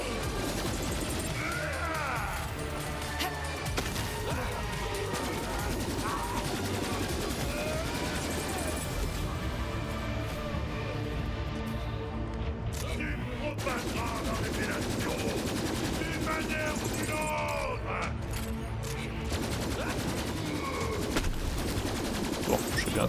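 Gunfire from guns in the video game Borderlands 3 rattles in dense, rapid bursts over a busy game mix of music and effects, running nearly the whole time with brief lulls, while a player talks intermittently.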